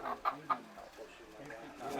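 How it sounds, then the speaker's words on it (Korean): A chicken clucks in a few short, sharp bursts at the start of an Ifugao harvest divination rite, where it is about to be offered as a sacrifice. Faint voices and outdoor bustle continue after the clucks. "닭이 제물로 바쳐지는 순간입니다."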